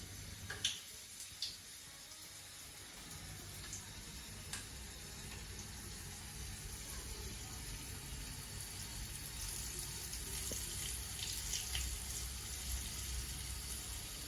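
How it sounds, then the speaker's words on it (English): Flour-dusted, coconut-crusted crayfish are dropped into hot oil, and a steady, even sizzling hiss builds and holds, with a few small ticks and pops near the start. "I'll go ahead and drop in the crayfish we've done flour and thing already"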